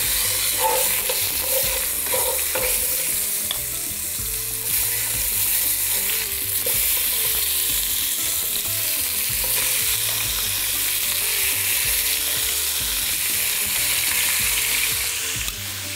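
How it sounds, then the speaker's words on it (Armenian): Meat pieces fry and sizzle in a kazan for khorovats, with steady loud crackling and repeated stirring scrapes running throughout, no voices. "Մսակտորները գցում ենք"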